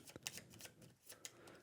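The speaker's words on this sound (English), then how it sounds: "So let's shuffle these up" A deck of cards for the Embers board game is shuffled by hand in close, quick bursts of riffling and sliding card snaps separated by brief pauses.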